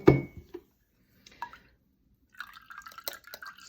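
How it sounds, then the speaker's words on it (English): Red cabbage liquid poured through a colander, a few sharp splashes and drips separated by short silences, then a run of small trickling drops and light clinks. "I'm just running it through the colander"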